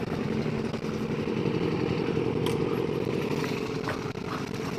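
A motorcycle engine idles steadily close by on a wet, rainy road, a continuous even rumble with no revving and no voices.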